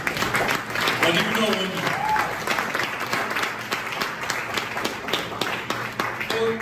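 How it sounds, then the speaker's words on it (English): Audience clapping during a mentorship session, a steady wash of applause running the whole time, partly under a speaking voice. "I don't like the way you guys are clapping"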